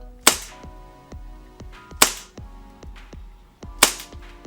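Tokyo Marui V10 Ultra Compact airsoft pistol fires green gas in three sharp, loud cracks about two seconds apart, each shot's slide clack ringing briefly, with small metallic ticks and rattles between shots, close and without talk.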